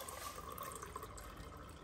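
Hot water pours steadily into a container, a continuous liquid splash and fill sound at close range with no talking over it.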